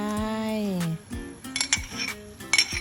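A metal ladle clinks and scrapes against a pot of Thai boat noodle soup, with a few sharp taps and knocks following a sustained ringing tone, close and moderately quiet.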